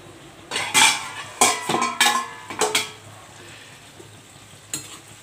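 Mixed vegetables of brinjal, field beans and drumstick pods cooking in a home kitchen pan, with several bursts of stirring and utensil clatter against a steady faint sizzle, then quiet simmering and a final clink.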